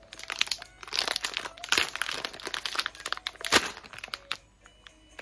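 A Baby Star Ramen snack bag, the limited Moko Tanmen Nakamoto flavour, being torn open and handled, giving a run of close, loud plastic crinkles and crunches in uneven bursts with no talking.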